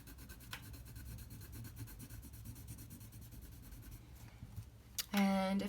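Colored pencil strokes scratching across paper during a drawing demonstration, a steady close rubbing texture with a louder scrape near the end.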